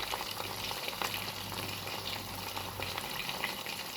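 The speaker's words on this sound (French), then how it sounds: "Mettez-y votre préparation de bœuf et laissez frire." Beef preparation frying in hot oil in a saucepan gives a constant, even crackling sizzle with faint bubbling throughout, close and fairly quiet, no talking.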